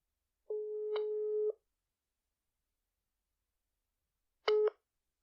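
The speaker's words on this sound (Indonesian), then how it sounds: "Oke, kita langsung telepon." Telephone call tones: a sustained electronic tone with a blip partway through, a silent pause, then a short second tone burst.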